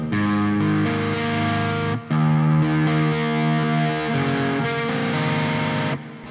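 Electric guitar through a Neural DSP Soldano SLO 100 amp plugin with a mildly overdriven, edge-of-breakup tone plays sustained chords and notes, loud and close, with a brief break midway.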